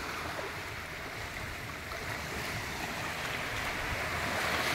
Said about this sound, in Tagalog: Ayan, malakas yung current ng alon.